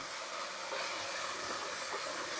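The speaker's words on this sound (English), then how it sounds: "Now add the tomatoes" Tomatoes added to a hot pan with green chilies and oil for a venison curry, giving a steady, broad sizzle and hiss that holds at an even level throughout, close and fairly loud, with no talking.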